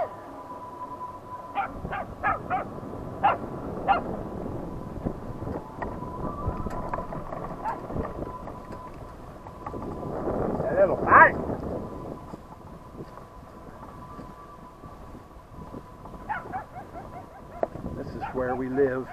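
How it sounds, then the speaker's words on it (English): Small dog barking in sharp, scattered yaps outdoors beside a highway while chasing a passing vehicle, heard over engine and road rumble, with people talking nearby. "there's a little stinking dog. He always comes over here and chases us."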